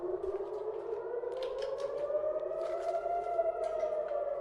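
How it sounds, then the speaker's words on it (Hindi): An air raid siren wails during a missile attack in Tel Aviv, a steady, rising tone heard from outdoors at a distance, with faint clatter and other background noise beneath it. "हालांकि बाहर से सायरन बजी है तो यहाँ पे लोग जो हैं अभी शेल्टर की तरफ जाएंगे।"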